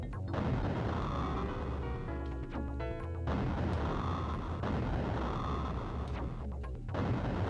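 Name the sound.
grenade explosion in the Sega Genesis video game Alien 3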